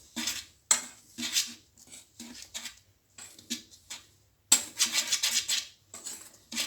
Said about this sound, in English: I'm going to whisk again together.